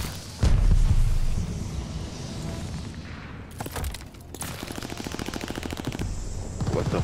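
Rapid automatic gunfire and scattered single shots in Call of Duty: Vanguard, during an 8v8 hardcore team deathmatch on the Gavutu map, with loud bursts layered over constant battlefield noise.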